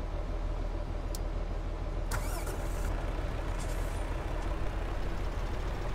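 Truck air brakes hiss in a traffic jam in the video game Farming Simulator 17, with short bright releases over a loud, steady engine and traffic rumble.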